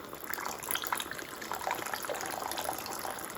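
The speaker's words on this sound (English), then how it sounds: "what I'm going to do is going to add a bit more water to this" Water pours into a pot of simmering chicken being cooked as homemade dog food, a soft continuous gush and splash, fairly quiet and steady throughout.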